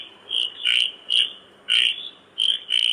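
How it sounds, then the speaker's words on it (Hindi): A frog croaks in rhythmic, shrill bursts, about seven short pulsing calls separated by brief gaps, loud and close over a quiet background, with no talking. "मेढक की आवाज आ रही है"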